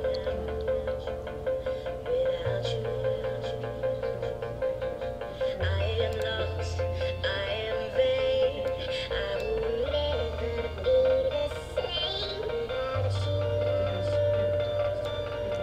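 A song pitch-shifted upward in Sony Vegas without preserving duration, playing as continuous sped-up music with a steady bass line and raised melody throughout, without any speech.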